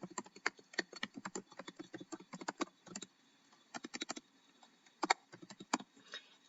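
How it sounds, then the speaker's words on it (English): Quick, light tapping on a computer keyboard as a name and email address are typed in, irregular bursts of close, crisp keystrokes with short pauses and no talking. "You need to type in your name and your email address."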